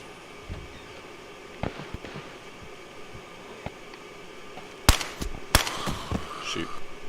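Gunfire in the survival game DayZ: a few soft shots early, then two sharp, loud cracks near the five-second mark followed by a clattering burst, over a steady hiss of wind-like ambience.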